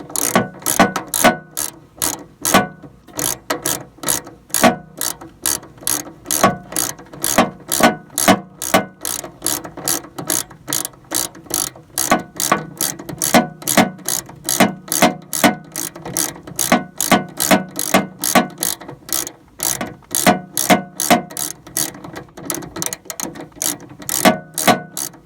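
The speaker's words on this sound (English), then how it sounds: "What I'm using is a ratchet socket here. So we'll go ahead and get these loosened up." A ratchet socket loosens the terminal nuts on a riding lawn mower's starter solenoid, giving a long run of quick, close metallic clicks in steady bursts with no talking.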